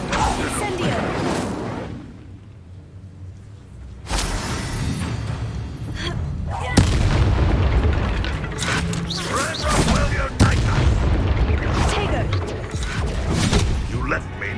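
A fire spell cast during a wizard duel in a game booms and crackles amid mechanical whooshes and impacts, with several loud bursts over a steady busy bed; a voice calls out spells.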